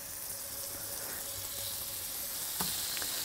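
Pork chop frying in butter in a hot pan, giving a steady close hiss and sizzle throughout with one small pop near the end.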